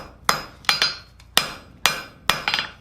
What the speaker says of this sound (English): We want to take and draw down this flat bar